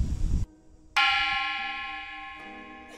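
A Thai temple bell struck once with a hammer rings out loud and close, its bright metallic tone sustaining and slowly decaying, followed by a softer second strike near the end after a brief noisy burst at the start.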